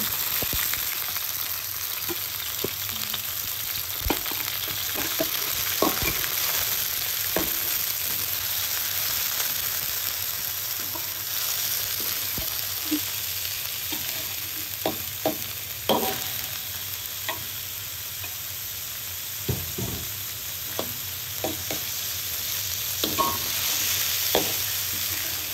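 Chicken and wilted onions fry in a pan while being stirred, with a steady close sizzle throughout and frequent scraping and clinking of the utensil against the pan, for a black Balinese rice dinner.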